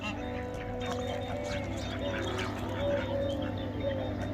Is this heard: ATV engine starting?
no